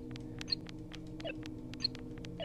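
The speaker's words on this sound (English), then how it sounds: "This is basically Space Invaders." A Space Invaders-style phone game inside the Blair Witch video game gives off soft, evenly spaced electronic ticks and a few higher beeps over a steady low drone, faint and unaccompanied by talk.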